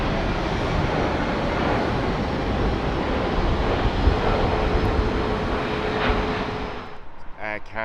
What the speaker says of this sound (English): United Airlines is the Boeing 777-200, and that is arriving from the west coast from San Francisco.